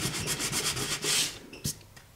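Sandpaper rubbed briskly over a cereal box in short back-and-forth strokes, close and fairly quiet, the scratchy rasping pausing briefly before a final stroke.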